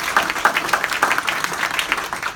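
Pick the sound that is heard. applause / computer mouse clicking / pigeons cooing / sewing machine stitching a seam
applause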